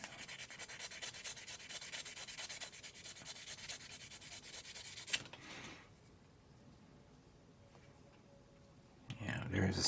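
A 1/72 Hasegawa Queadluun Rau plastic model kit part is sanded by hand, giving a steady, fast scratchy rubbing up close for about five seconds before fading into quiet room noise.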